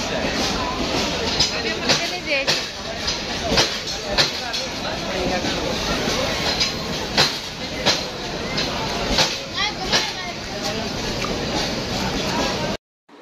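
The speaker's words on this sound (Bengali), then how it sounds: "এদিকে ট্রেন চলে আসছে" Train arriving at a railway station at night, a steady rumbling roar with rhythmic clacks under continuous talk and crowd chatter.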